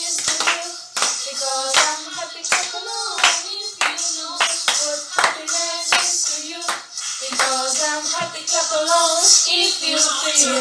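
A group claps along in time to an upbeat pop song, crisp claps landing on the beat under a singing voice and music throughout.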